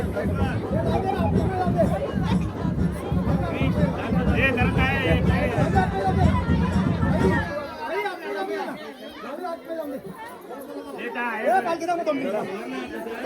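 A festive crowd at a palanquin procession in Bhiwandi fills the air with dense, loud chatter and cheering. A heavy low rumble sits under the noise for the first half.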